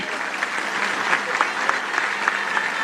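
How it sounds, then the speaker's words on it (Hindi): A crowd at a Dalit Panther golden jubilee rally in Nanded welcomes Chandrashekhar Azad with dense, sustained applause, a steady wash of many hands clapping across a large gathering. "आप भी उनका स्वागत तालियों से कीजिए।"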